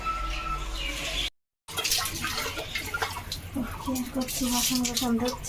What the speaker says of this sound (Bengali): বাসন কুসন ধুচ্ছে, এদিক দিয়ে যাবে, মেলে জল ঝরাবে, শুকাবে আর কি।